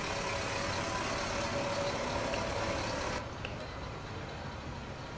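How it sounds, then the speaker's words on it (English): Low, steady rumble of an idling diesel fire truck engine in the video game EmergeNYC, which drops slightly in level about two-thirds of the way through. "You guys can hear the diesel on this one"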